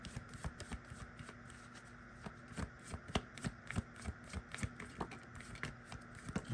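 Tarot cards being shuffled by hand close up, a quiet run of crisp, rhythmic riffles and soft slaps repeating steadily with no speech.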